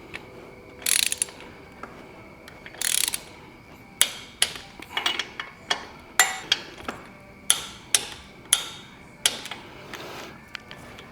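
A torque wrench ratchets and clicks close up as it tightens engine bolts on a 1973 VW Super Beetle 1750 cc engine in escalating passes. Short ratcheting bursts give way to a steady run of sharp clicks, with no talk.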